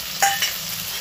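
Spice paste ground with prawns sizzling as it goes into frying onions and tomato, a bright close hiss with two quick bursts as it hits the hot oil, then a steady frying crackle.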